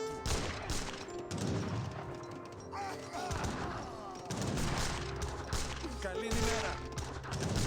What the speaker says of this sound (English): We're gonna gun down some of these plume spearmen now.